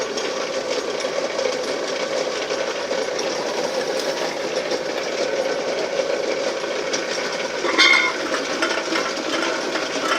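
A homemade rock and can crusher machine runs forward at 50 rpm, a steady mechanical grinding drone with a brief sharp clank near the end, without any voices.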